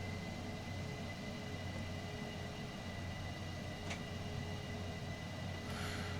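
F-4 Phantom II jet taxiing in Microsoft Flight Simulator: a steady, low engine drone and hiss runs continuously with a faint whine layered above, broken only by a brief click and a short burst of brighter noise near the end.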